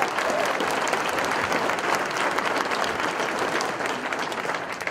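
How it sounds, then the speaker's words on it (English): An audience at a political gathering applauds steadily for several seconds, a dense, even patter of many hands clapping close by that eases slightly toward the end, with a faint voice under it. "Let's give a special round of applause to Mike Skidmore here."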